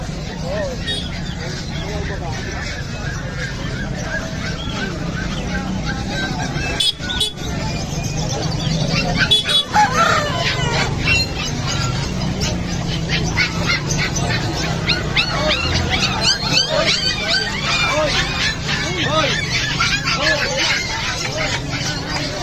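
Caged birds and fowl at the Bocaue pet market fill the air with constant chirps and calls, joined by a dog barking and whimpering, and people speaking over the busy, loud market din.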